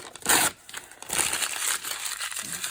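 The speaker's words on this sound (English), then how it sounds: "crumple it up." A piece of paper being crumpled by hand in a short burst of crinkling and crushing, close and fairly loud, then softer continued crinkles.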